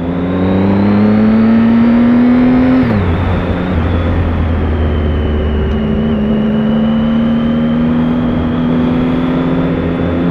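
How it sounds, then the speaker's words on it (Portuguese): A 2016 Triumph Speed Triple 1050R motorcycle engine revs up, drops back, then climbs again in a loud, close, continuous drone during a test ride. "O barulho do motor está muito melhor do que o da irmã dela anterior."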